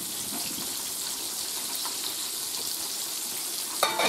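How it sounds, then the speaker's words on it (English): Water pours from a cooking pot into a colander in a home kitchen, a steady close splashing gush that continues evenly with a brief clatter near the end. "Drain my water."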